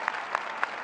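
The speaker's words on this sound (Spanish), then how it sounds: "Y el aplauso de la gente de San Martín de San Juan" A stadium crowd at a football match applauds an injured player, a steady wash of clapping with a few louder claps standing out, heard alone without talk.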